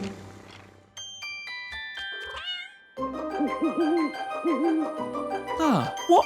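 A cartoon kitten being put to bed gives a few high, bending meow-like calls among chimes and children's show music.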